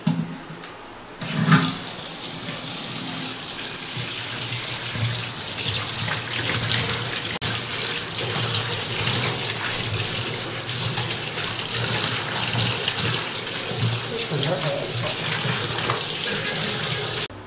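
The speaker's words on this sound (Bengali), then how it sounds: "বন্ধুরা এবার এটা পরিষ্কার জলে আমি ধুয়ে নেব।" Mutton being rinsed under a running tap, a steady, close rush of water that fills the whole clip after a brief splash near the start.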